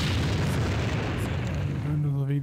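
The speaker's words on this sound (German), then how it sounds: "Wir hören nur so wegen die Explosion an." A deep booming explosion from the strategy game Empire Earth rumbles loudly and fills the whole short stretch, ending with a tonal hum.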